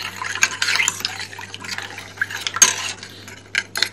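Spoon stirring natural salep powder into cold milk in a pot, with clinking and scraping strokes in irregular bursts and a soft liquid swish between them, close and fairly quiet.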